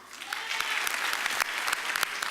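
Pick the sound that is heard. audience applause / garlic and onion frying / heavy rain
audience applause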